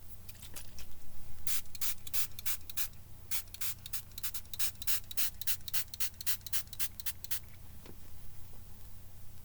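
Makeup setting spray from a pump bottle spritzed in a long series of short, sharp hissing bursts, roughly a dozen quick pumps in steady rhythm, close and clear against a low background hum, with no talking.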